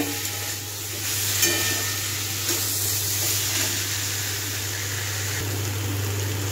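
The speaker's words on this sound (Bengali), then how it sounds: "ভেজে রাখা আলু সয়াবিন দিয়ে কিছুক্ষণ কষে নেব।" Fried potatoes and soya chunks sautéing in a pan for an egg curry, giving a continuous close sizzle and hiss with faint stirring over a steady low hum; no voices.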